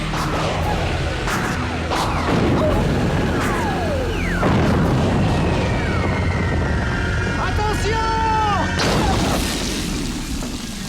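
Sharp gunshot-like booms and blasts from a science-fiction show, several bursts over a dense, loud mix with sweeping whooshes and effects throughout.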